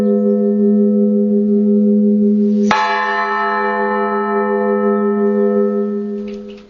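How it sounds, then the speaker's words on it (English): Village bell tower bells ringing in a Siberian settlement; a sustained resonant humming tone, then a sharp fresh strike that rings out and slowly decays, loud and clear with no voices. "The sound of the bells ringing has already become a part of everyday life."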